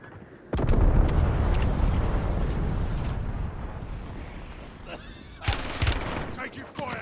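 Loud, dense gunfire from the Resurgence video game, with sustained automatic bursts and a second heavy volley near the end. Game voice lines come in over the shooting.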